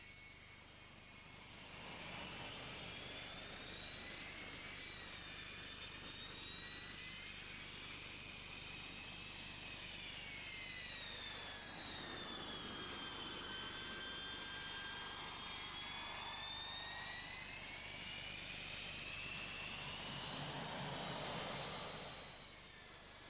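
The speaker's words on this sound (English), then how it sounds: "a fully jet-powered team, the Biele Albatrosy, the White Albatrosses, and this is the L-39 Albatros aircraft from the Slovak Air Force" L-39 Albatros jet trainers of the Slovak Air Force display team perform at an air show, a loud sustained jet whine that rises and falls in pitch as the aircraft pass, heard alone.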